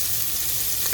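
Onions sizzle and fry in a pan, a steady bright crackling hiss that stays close and even for about a second.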